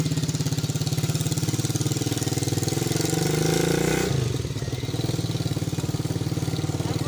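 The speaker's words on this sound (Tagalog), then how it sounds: "siya na po ay magmamaniho ng motor at pupunta po kami sa mangrove." A motorcycle engine chugs with a steady idle pulse close up, swells briefly as it revs near the middle, then settles back into an even rhythmic putter.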